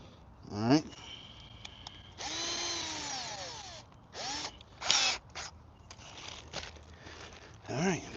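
A Milwaukee power drill whirs in several short bursts of varying length while a wooden sandbox is assembled with screws and corner brackets, with quieter clicks and handling noises between the runs.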